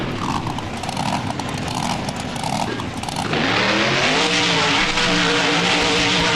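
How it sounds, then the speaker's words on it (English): Monster truck in the BeamNG video game spinning a reverse donut: a steady, loud engine roar with a churning rumble, then rising to a higher, harmonic revving whine that holds strongly to the end. "Doge Destruction starting us off a little differently with a reverse donut"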